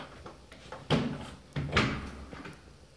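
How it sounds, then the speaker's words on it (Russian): A home's front door opening: soft latch clicks followed by two firmer knocks and thuds about half a second apart, heard close in a quiet room. "При открытии входной двери у нас"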